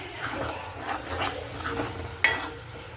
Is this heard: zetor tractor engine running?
no